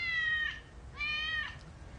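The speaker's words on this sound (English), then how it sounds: "Is that a cat?" A cat gives two drawn-out meows about half a second apart, each clear and fairly close, over a low background hum with no speech.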